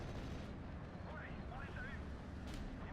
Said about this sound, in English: We'll fire on these positions, and we'll fire on this house.